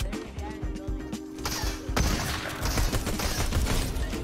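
Gunfire in the Fortnite video game crackles in rapid bursts, dense and continuous, becoming louder and more chaotic partway through, with no speech over it.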